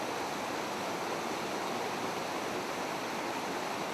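A mountain waterfall roars as a steady, dense broadband rush of falling water, constant and fairly loud throughout with no voices.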